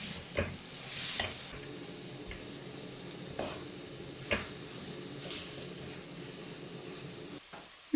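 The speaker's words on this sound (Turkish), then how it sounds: "Hafiften şöyle bir çeviriyoruz, soteliyoruz." Onions and black kale sauté in a pot for soup, a soft steady sizzle with occasional scraping knocks of a spoon stirring against the pot, quiet and close throughout.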